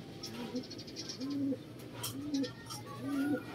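Pigeons cooing nearby in repeated soft, low, rolling calls, roughly one every second, over a faint background hum and light rustling.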